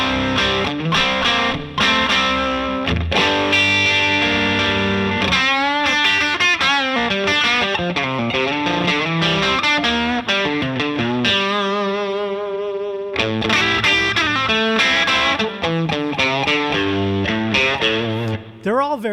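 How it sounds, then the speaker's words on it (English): Loud, overdriven electric guitar through a cranked 85-watt Fender Twin Reverb tube amp, chords and single-note runs with a held, wavering note in the middle, thick and distorted throughout. "what you're hearing now is an 85-watt amplifier."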